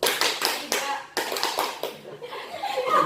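A group of children claps hands in a counting clapping game in a classroom, sharp bursts of claps coming in quick clusters that speed up, with a voice calling the counts and light laughter mixed in.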